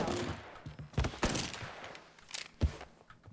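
Video game Mafia 3 gunfire, several sharp separate shots ringing out among quieter scattered crackles, loud and close with irregular spacing.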